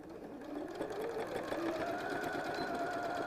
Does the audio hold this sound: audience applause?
no